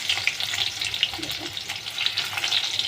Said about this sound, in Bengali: এবার আমি পেঁয়াজগুলো দিয়ে দিলাম।